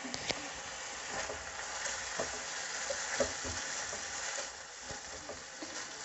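Chicken pieces fry in a pan seasoned with salt, paprika and white pepper, giving a continuous, even sizzle and hiss with occasional faint knocks of stirring.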